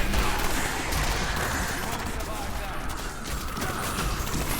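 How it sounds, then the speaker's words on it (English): Grenades go off in a dense, continuous barrage during Diablo 3 multiplayer, with a Demon Hunter filling the area, a loud unbroken roar of overlapping blasts and crackle with no pauses. "Fill the area with grenades."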